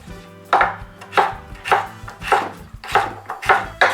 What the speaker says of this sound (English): you wanna cut it into cubes.